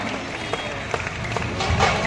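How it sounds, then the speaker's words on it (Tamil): An audience at an arts festival in Ranipet claps for children who just performed, a brief loud burst of applause with scattered sharp claps, close and crowded. "சூப்பரா பண்ண குழந்தைங்களுக்கு உங்களுடைய கைத்தட்டலை கொடுங்க"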